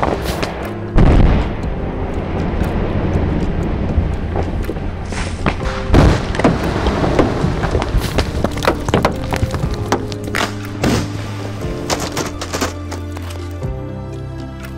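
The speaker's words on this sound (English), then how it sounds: "they drilled multiple holes to set their charges in a way to break the rocks into small as possible pieces" Explosive charges set in drilled holes are detonated to break up rockslide rocks on a mountain road, producing a series of deep booms and thuds followed by scattered cracks and rumbling debris, loud and close.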